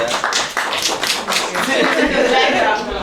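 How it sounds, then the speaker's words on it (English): Audience applause at a writing session, a dense patter of clapping with taps and thumps mixed in, as a voice speaks over it. "Everybody give them a round of applause."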